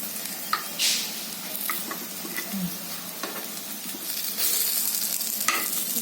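Bread and potato cutlets fry in a pan with a soft, steady sizzle up close, broken by a few light clicks and scrapes of a utensil turning them, and no voices.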